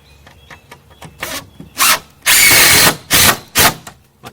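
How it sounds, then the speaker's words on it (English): A power drill drives a screw into a decking board while a warped board is being straightened: a few short whirs, then one longer sustained run, then two more quick bursts, loud and close. "and then we're going to pop the screw in."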